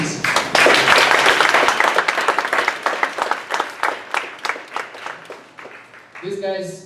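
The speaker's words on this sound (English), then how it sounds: "You can really applaud this team" An audience at a creative event applauds, dense clapping that thins into scattered separate claps, then breaks off as a voice begins speaking at the very end.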